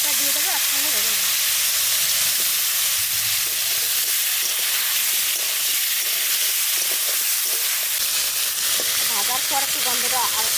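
Chunks of dried hilsa shutki fry in mustard oil in a kadai, giving a loud, continuous close-up sizzle and hiss with occasional stirring scrapes, and a voice speaks faintly over it.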